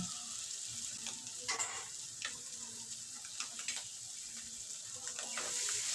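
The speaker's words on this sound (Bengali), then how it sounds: "আমার ভাজানো হয়ে গেছে এবারে দিয়ে দেব সেদ্ধ করা মাছের ডিম" Boiled fish roe fries with tomato in a pan for fish-egg jhuri bhaja, giving a soft continuous sizzle broken by several brief stirring scrapes. It is fairly quiet and has no speech.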